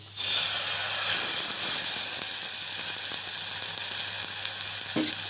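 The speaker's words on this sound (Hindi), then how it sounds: "अब ये देखिए मैंने बटर डाल दिया है, 1 टेबल स्पून बटर डाल के और मैं ये दलिया डाल दूंगी।" Broken wheat fries in a tablespoon of butter in a pan, giving a steady, close sizzling hiss with faint stirring scrapes and a small knock near the end.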